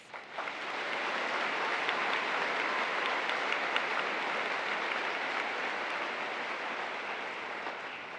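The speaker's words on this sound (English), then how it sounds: "Please join me in a round of applause to recognize our platform guests and graduation ceremony coordinators." Graduation audience at a high school ceremony applauds the platform guests and ceremony coordinators, a broad, even wash of clapping that swells quickly and holds steady, sounding almost like heavy rain from a large crowd.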